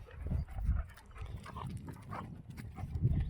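Dogs playing close by in a forest setting, with snorting, grunting and rough growly huffs in irregular bursts, moderately loud with no talking.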